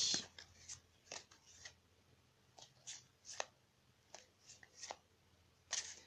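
Light rustles and crisp ticks of an ascended masters oracle deck as a card is drawn, a few quiet scattered flicks and slides with short pauses between them, close and soft.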